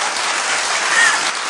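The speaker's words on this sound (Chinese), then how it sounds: "掌声鼓励" Studio audience applauding on a Taiwanese TV variety show, a steady broadband wash of clapping holding at even loudness throughout with no talk over it.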